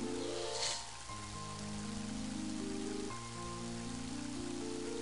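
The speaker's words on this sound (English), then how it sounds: "And now it starts raining." Rain falls steadily in the video game Mother 3, a soft continuous hiss running under layered synthesized music tones throughout.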